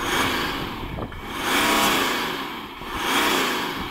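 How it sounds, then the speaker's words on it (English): A BMW X3 M40d diesel engine is revved twice in succession, each rise swelling to a strong, close roar before easing back between the pulls. "Richard, do you want to rev up your diesel?"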